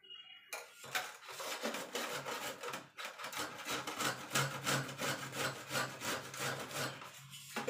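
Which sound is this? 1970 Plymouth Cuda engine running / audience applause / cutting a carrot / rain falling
cutting a carrot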